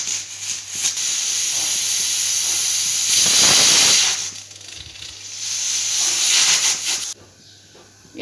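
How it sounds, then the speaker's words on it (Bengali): A pressure cooker whistle releasing steam, cooking lentil dal with hilsa fish heads, as a loud continuous hiss that swells and surges for several seconds, briefly eases, rises again and then cuts off near the end. "সিটিটা লাগিয়ে দিব, আর 3-4টা সিটি দিয়ে দিব।"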